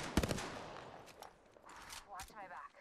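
Quick bursts of gunfire in the video game Apex Legends, a sharp rapid volley at the start followed by fainter scattered shots, with game character voices speaking over it.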